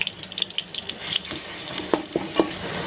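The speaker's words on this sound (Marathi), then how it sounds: "आलं लसूण पेस्ट आपल्याला परतून घ्यायची" Ginger garlic paste frying in a little oil in a pan, a close, soft crackling sizzle with light scraping and stirring clicks, steady for a few seconds, no talking.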